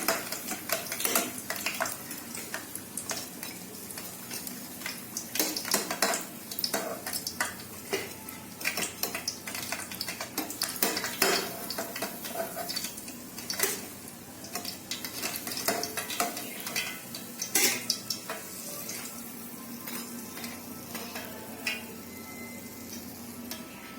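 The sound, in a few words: sweet bonda frying and stirred on slow flame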